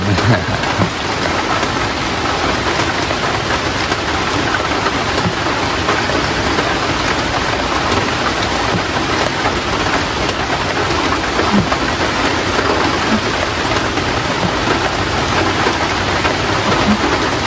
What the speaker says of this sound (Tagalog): Ayan, napakaulan po.